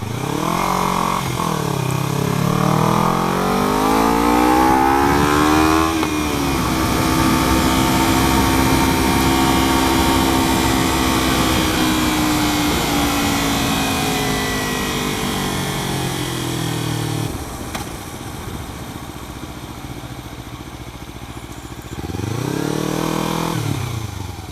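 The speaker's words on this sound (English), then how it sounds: "there's Ken and Joe's Honda Kawasaki" Honda and Kawasaki motorcycles ride past close by, engines rising and falling in pitch as they accelerate and pass, a loud sustained roar with a second bike sweeping through near the end.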